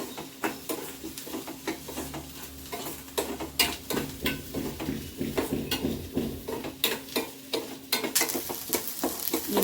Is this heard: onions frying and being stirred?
yes